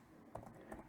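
A few quiet keystrokes on a computer keyboard, two soft clicks, brief and faint.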